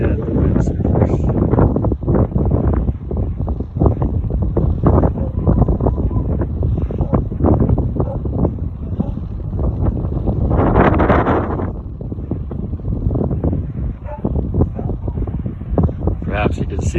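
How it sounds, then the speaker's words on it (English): Strong, gusty wind on a beach at Tarifa, with windsurfers out on the water. It buffets the microphone loudly and continuously, with a rushing roar throughout and a person talking underneath. "it's kind of a blustery day with clouds off"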